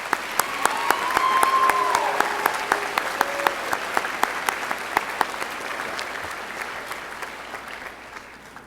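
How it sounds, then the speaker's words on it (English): A crowd at the 2014 W.F. West High School graduation applauds its top students, with steady, full clapping that fills the hall from start to finish and fades gently toward the end. "Let's recognize these top students with our applause."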